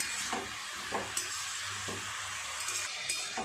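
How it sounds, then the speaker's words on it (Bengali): Vegetables stir-fried with spices such as cumin powder and salt in a pan, a continuous soft sizzle broken by a few light scraping strokes of a spoon at irregular intervals. "সব সবজির সাথে মশলাগুলো খুব ভালোভাবে একটু সময় নিয়ে কষিয়ে নেব"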